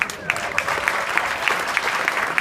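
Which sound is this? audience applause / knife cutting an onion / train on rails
audience applause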